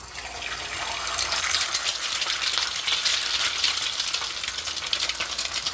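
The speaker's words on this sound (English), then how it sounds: "we're gonna go ahead and have the egg fry" An egg fries in hot oil in a pan for a homemade cheeseburger, giving a steady, dense crackling sizzle that holds for several seconds at a fairly even level with no talking.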